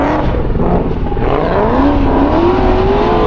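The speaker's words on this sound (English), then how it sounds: "you hear that behind me? That's a pair of Ford GTs running" A pair of Ford GT sports cars roar nearby at Monterey Car Week in a loud, continuous drone, the pitch climbing steadily as they accelerate.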